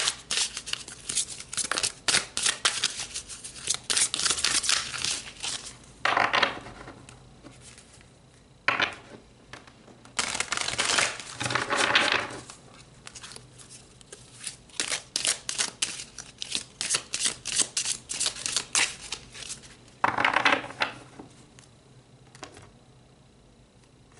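Tarot cards shuffled and pulled, giving bursts of papery riffling, flicking and slapping that come and go in clusters over about twenty seconds, fairly close and moderately loud, with quieter gaps between handlings.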